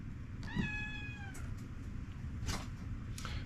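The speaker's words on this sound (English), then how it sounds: "Now I have a cat walking in." A house cat meows nearby indoors, one clear drawn-out meow followed by a couple of softer, shorter calls over a low steady background hum.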